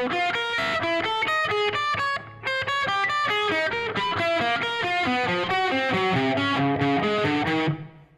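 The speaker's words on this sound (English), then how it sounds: "an exercise where you're picturing a triangle coming over the guitar" A distorted electric guitar plays a fast, steady run of picked notes in a moving triangle-shape pattern, the riff exercise style of a band's guitarist. The playing is loud and continuous for about eight seconds, with no talk.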